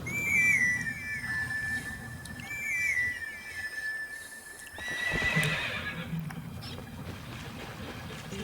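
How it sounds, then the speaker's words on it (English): A horseshoe grass whistle in Twilight Princess HD plays a short rising melodic tune, repeated, over an outdoor ambience, followed by a horse's neigh and hoof sounds. "And this is horseshoe grass. You can use it"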